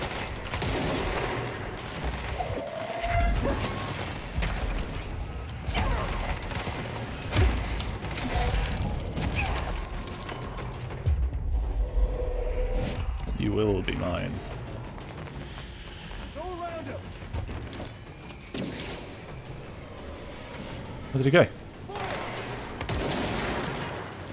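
Gunfire aimed at the player during combat in the game Control, dense bursts of shots and crashing impacts rolling on continuously under someone talking, with a louder burst near the end.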